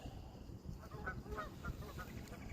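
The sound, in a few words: geese squawking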